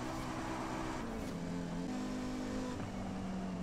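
Car engine in Forza Horizon 5 accelerating hard through the gears, a loud continuous rev that climbs in pitch, drops at each shift and climbs again, alone with no talk.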